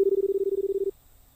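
A single steady telephone keypad tone sounds at a public payphone, holding for just under a second before cutting off to quiet line hiss.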